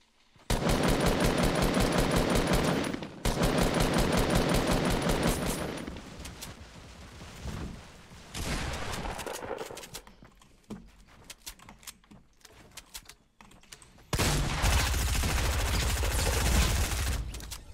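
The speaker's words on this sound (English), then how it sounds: "I heard some gunshots over here" Bursts of rapid automatic gunfire in Fortnite, long sustained volleys with brief pauses and scattered shots between, loud and close.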